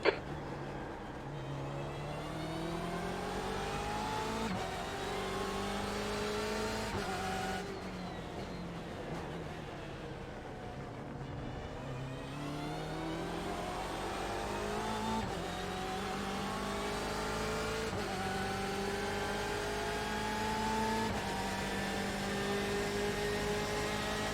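Engine of a BMW M8 race car in an IMSA race at Daytona in a racing video game, a loud continuous howl rising and falling through gear changes as the car runs in traffic.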